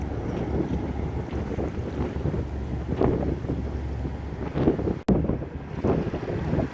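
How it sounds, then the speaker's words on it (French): A small working boat, not a pleasure craft, pulls away from the port of Piriac, its low engine drone steady under heavy wind buffeting and rushing water, with a sharp microphone knock near the end. "Et un petit bateau, pas de plaisancier, qui va s'en aller."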